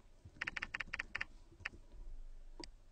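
Typing on a computer keyboard: a quick burst of about eight crisp, close key clicks, then a lone keystroke, a pause, and one final tap over quiet room tone.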